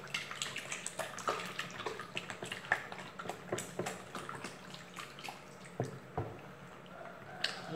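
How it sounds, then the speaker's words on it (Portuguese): Water poured into a batch of homemade liquid detergent, a litre at a time, gives steady splashing and dripping with small liquid clicks all the way through, fairly close, with no talking. "Ainda vou colocar água aqui"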